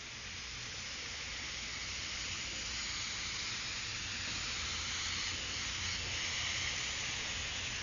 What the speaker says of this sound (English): Coming back again to my black, a little bit of a test spray there.